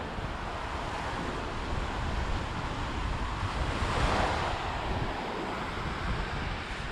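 Ocean surf on a choppy day along the beach near Playa del Carmen, a steady wash of breaking waves with gusting wind buffeting the microphone, one swell cresting louder toward the end.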